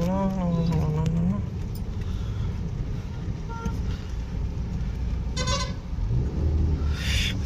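A car crawls in second gear through heavy traffic with lorries near Srikalahasti on the Nellore–Tirupati road. A steady road rumble carries a horn tone at the start and a short burst of honking near the end.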